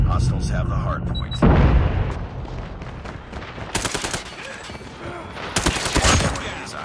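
Airstrike booms and bursts of rapid gunfire erupt in a Call of Duty Mobile hardpoint match, with heavy blasts punctuating continuous firefights while game voice callouts chatter underneath.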